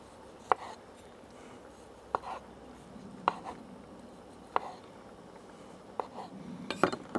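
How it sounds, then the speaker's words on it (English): Tomatoes chopped coarsely with a knife on a board: six or seven separate sharp knocks spaced a second or so apart over a quiet room. "let's chop the tomatoes, get them in"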